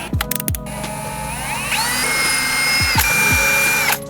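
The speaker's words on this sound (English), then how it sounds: "Give it a little pre-drill and clean it." Power drill pre-drilling a hole into a fiberglass boat hull, several short sharp trigger bursts followed by a sustained, rising whine, loud and close with no talking.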